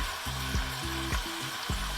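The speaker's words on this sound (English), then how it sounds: "That's sizzling up nice." Shrimp, New York strip and bison sizzle together in hot oil in a pan on a sailboat, a continuous loud frying hiss with rhythmic low clunks and a faint hum, no voices.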